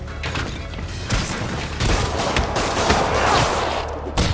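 Rocket blasts and explosions boom one after another in Spider-Man on PS4, loud crackling impacts layered over a rumbling low din with several sharp hits across the stretch.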